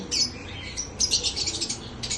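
A baby racing pigeon, held in the hand, gives a string of thin, high chirps and peeps in quick bursts, close and clear against a quiet room background.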